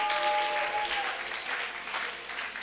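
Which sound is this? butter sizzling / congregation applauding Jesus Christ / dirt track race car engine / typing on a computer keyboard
congregation applauding Jesus Christ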